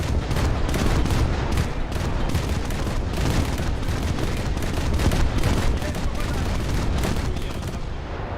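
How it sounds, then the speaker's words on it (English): Dense, continuous volleys of 45 mm secondary guns pounding a destroyer in World of Warships, rapid overlapping shots forming a loud sustained barrage for the whole stretch. "I'm going to insult them by using the 45s instead of the main guns."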